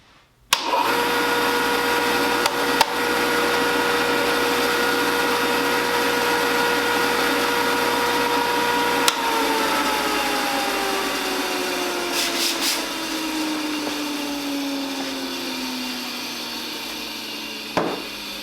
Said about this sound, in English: the only thing on this sander that's working now is the disc. That's because the disc is directly driven by the motor.